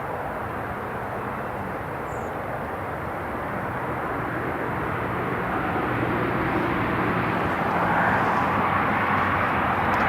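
An Italian Air Force C-27J turboprop moves slowly at Newcastle International Airport, giving a continuous broad engine drone at steady loudness that rises slightly near the end.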